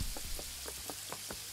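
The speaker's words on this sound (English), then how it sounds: "it's fucking raining really loudly indoors now" Rain falling heavily outside, heard from indoors, a steady hiss of drops with a few faint rhythmic taps, fairly quiet and without talk.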